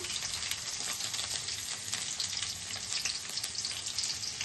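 Ginger, garlic and green chili frying in a pan give a dense, even, close sizzle that crackles steadily throughout, no voices.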